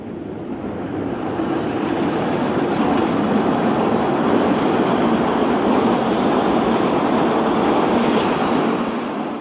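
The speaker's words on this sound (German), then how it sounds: "Zwischen endlosen Rapsfeldern fährt die 52 mh der Rügenschen Bäderbahn mit ihrem" The small 1914 Stettin-built superheated narrow-gauge steam locomotive 52 MH of the Rügensche Bäderbahn pulls heritage coaches out of Putbus past rapeseed fields, a loud steady rumble of train and wheels rolling close by without pause.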